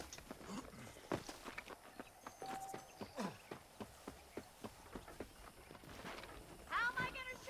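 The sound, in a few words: horses moving, from the video game Red Dead Redemption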